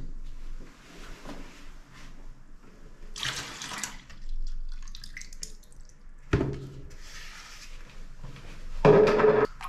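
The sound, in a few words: water poured in to thin bathroom paint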